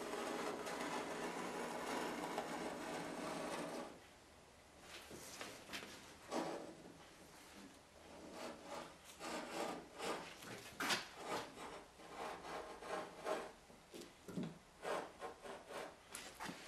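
A knife trims glass cloth around a patch. The scraping and rubbing strokes start after a short stretch of steady noise and come as irregular, close, quiet rasps.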